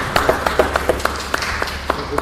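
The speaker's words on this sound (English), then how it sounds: "you deserve a round of applause" A small round of applause at a city planning and land use committee meeting: a dozen or so distinct, evenly spaced claps over about two seconds, moderately close, with no talking over them.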